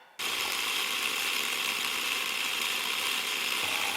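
Auto World HO diecast slot car with a four-gear drivetrain spins its rear wheels on a dyno roller, a sudden start into a steady high mechanical whir with gear buzz, close and constant throughout.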